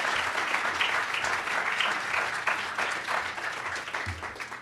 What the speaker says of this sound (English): I'd like everybody to give a warm 2023 applause to Chris Rainier, one of the great storytell